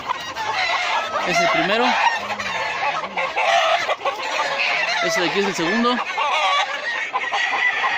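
Chickens cluck busily nearby while a gamecock crows twice at a cockfighting pit, with someone speaking Spanish in the middle of the barnyard noise.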